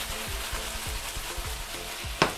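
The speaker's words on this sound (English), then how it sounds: "So we're gonna sear all of the beef." Beef strips searing in a hot pan for a beef and onion stir-fry, with a steady close sizzle broken by repeated low scrapes and stirs, then a sharper hiss burst at the end.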